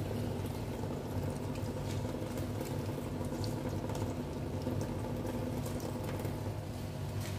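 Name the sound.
weak stream of filtered water pouring from tap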